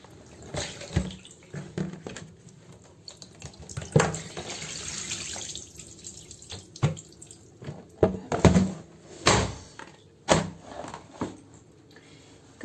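Water drains and splashes from a cold-water bath used to soak cross-stitch embroidery, an irregular run of sloshing and dripping with louder splashes near the middle and end, no voices.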